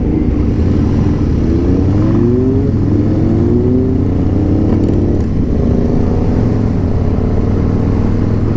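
A Harley-Davidson Tri Glide CVO trike with a 117 engine accelerates on the road during Daytona Bike Week, a loud, continuous engine roar rising through the gears with strong wind noise.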